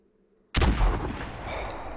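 A single rifle shot fired at a bison in the hunting game theHunter Classic, a sudden loud boom after near silence, trailing off into a long rumbling echo.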